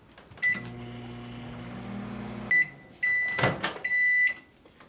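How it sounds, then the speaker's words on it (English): A microwave oven hums steadily, then beeps several times as it finishes; door sounds follow, with no voices. "we're going to microwave it first for 1 minute"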